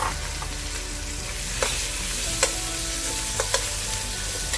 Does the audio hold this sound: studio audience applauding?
no